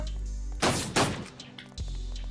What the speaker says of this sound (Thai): แล้วเขายิงกันอยู่ด้วย